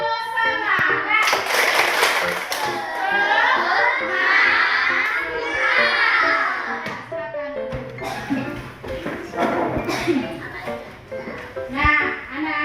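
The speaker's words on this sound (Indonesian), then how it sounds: "Oke, tepuk semangat." A class of children performs the 'tepuk semangat' clapping chant in a classroom, with sharp group claps in bursts mixed with loud, overlapping young voices chanting and shouting together, nearby and energetic.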